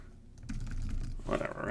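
Keys tapped in a quick, uneven burst on a computer keyboard, with a denser flurry of clacks near the end; close and fairly quiet, no talking.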